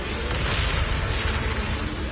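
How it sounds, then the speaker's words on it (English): Explosions in the video game Zenless Zone Zero form a dense, continuous booming rumble that stays loud and close, with no clear gaps across the short stretch. "Move in during the gaps between explosions."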